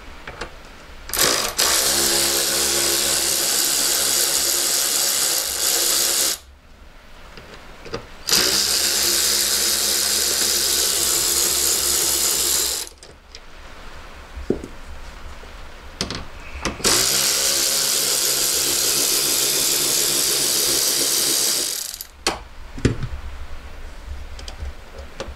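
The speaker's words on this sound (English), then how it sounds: "So I'm going to get my torque drive, and then we're going to then undo these panels." A powered torque driver undoes the dashpod panel screws on an Audi TT in three long, steady whirring runs of several seconds each, separated by short pauses and quiet handling noises.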